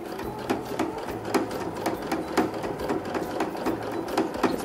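A sewing machine top stitches along a zipper, its needle hammering in a fast steady rhythm with a light mechanical whir underneath, close and clear with no talking.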